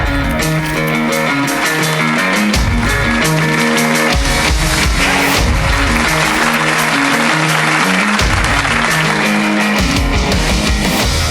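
Audience applause at an award ceremony for a defense-industry software brand, a steady wash of clapping blended with loud music playing throughout.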